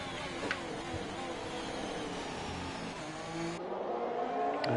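A Ferrari racing car engine whines at high revs in a steady, tonal drone, shifting pitch as it accelerates, then dropping away before rising again, with commentary voices talking over it.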